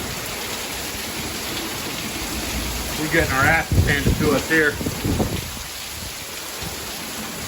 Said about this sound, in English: Look at the rain just cascade off those roofs.